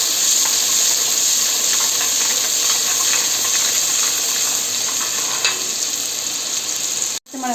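Ginger, garlic and fennel seeds fry in hot oil with a steady, close, bright sizzle. Faint stirring scrapes run through it before the sound cuts briefly near the end.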